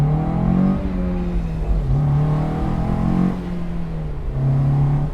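A Honda S2000 engine revs at about half throttle through a cold air box, rising and falling in several loud, close sweeps over a steady idle, with no talking.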